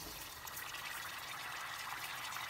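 Liquid nitrogen bubbles and boils around a submerged LED strip, giving a faint, steady hiss and fizz that runs unbroken throughout with no voices.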